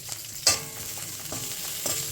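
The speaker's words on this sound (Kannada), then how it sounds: "ಸೊ ಈಗ ನಾನು ಶುಂಠಿ ಬೆಳ್ಳುಳ್ಳಿ ಹಸಿಮೆಣಸಿನ ಪೇಸ್ಟ್ ಹಾಕೊಂಡಿದ್ದೀನಿ." Ginger, garlic and green chili paste frying and being stirred in a pan for a chicken gravy, giving a soft steady sizzle with a few scraping stirs and no voices.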